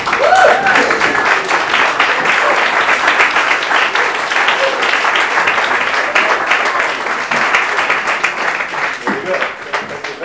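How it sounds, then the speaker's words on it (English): An audience at a Cape Town startup talk rises for a standing ovation, filling the room with loud, continuous, dense clapping throughout. "can we please get a massive stand-up round of applause for Simon Mantelli from Mantelli's Biscuits."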